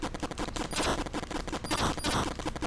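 Rapid retro shooter fire in the arcade game Gyrodine, enemies spraying bullets in a fast, regular rattle of sharp clicks and pops, loud and continuous with brief brighter bursts and no talk.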